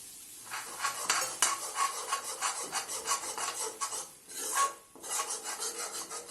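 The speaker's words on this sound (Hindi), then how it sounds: "बेसन को लगातार चलाते रहेंगे, नहीं तो ये जल सकता है।" A spoon scrapes and stirs gram flour (besan) roasting in a pan over a very low flame, giving repeated soft rasping strokes in an uneven rhythm, close and fairly quiet, with no voices.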